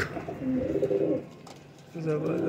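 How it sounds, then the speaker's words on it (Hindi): A silver ash Bateray pigeon gives two soft, close coos separated by a short pause. "सिल्वर ऐश पत्ती का ये बटेरा कबूतर है"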